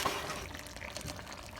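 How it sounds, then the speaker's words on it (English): Water poured into a pot of simmering chicken and rice, a short, steady splashing pour heard close up with no talking. "I'm probably going to add a little bit more water"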